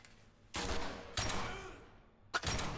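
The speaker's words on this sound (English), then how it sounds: "the gunshot sounds in the cutscene sound really like limp" Gunshots in a cutscene from the video game 007: Blood Stone come as three separate bursts, each with a sharp onset and a thin, fading tail, at moderate loudness with no talk.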